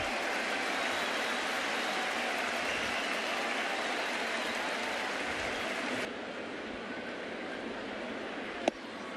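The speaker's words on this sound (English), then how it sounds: "the crowd, knowing what was happening, they give him a nice hand" Broad steady applause from a baseball crowd at a Yankees vs Twins game, a dense wash of clapping that holds for several seconds before dropping slightly quieter, with one sharp knock near the end.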